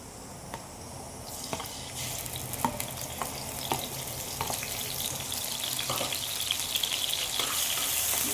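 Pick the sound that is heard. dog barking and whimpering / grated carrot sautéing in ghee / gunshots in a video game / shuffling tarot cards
grated carrot sautéing in ghee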